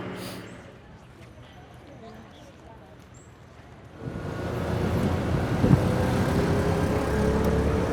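A tuk-tuk rides through the streets of Phnom Penh: a quiet stretch gives way midway to a steady wash of engine and wind rumble that continues to the end.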